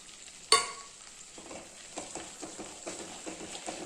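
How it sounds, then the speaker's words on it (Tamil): Gongura (sorrel leaf) pickle sizzles in oil as spice powder is tipped in and stirred, opening with a sharp clatter, then a steady soft frying hiss with gentle scraping strokes. "இப்போ இதோடு சேர்ந்து நல்லா கலந்து ஒரு 2-3 நிமிஷம் வேகட்டுங்க."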